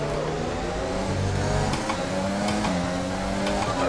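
Formula 1 car engine in the F1 2020 game, a constant high revving whine with gear changes and cars running close by, sustained for several seconds with no voices.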